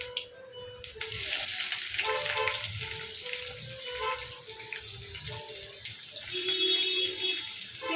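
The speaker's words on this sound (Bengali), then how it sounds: "কোচানো পেঁয়াজগুলো সব দিয়ে দেবো।" Chopped onions, three large ones, go into a pan with about 750 g of boneless chicken and fry with a loud, steady sizzle and crackle that continues throughout without any talking.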